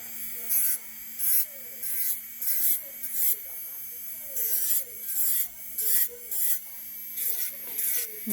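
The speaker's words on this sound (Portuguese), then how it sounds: "Velocidade 10 aqui no motor para lixar a unha natural" An electric nail drill runs at low speed, filing a natural nail in repeated short passes with a buzzing, rasping texture over a steady motor hum, and someone talks throughout.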